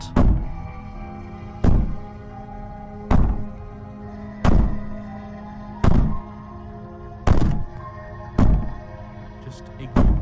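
Heavy banging on a wall in the video game Slay the Princess: seven loud, evenly spaced thuds about every 1.4 seconds, each ringing out over a low, steady background drone.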